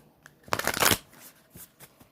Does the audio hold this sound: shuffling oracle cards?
yes